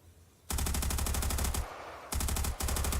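Sustained automatic fire from a machine gun with a 100-round magazine in a Modern Warfare mod video game, loud rapid bursts with a short pause and a dip between them.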